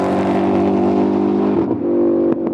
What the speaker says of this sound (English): GT350 is a direct descendant of the original with a tuned small block Ford V8 and a specially designed exhaust that recreates the sound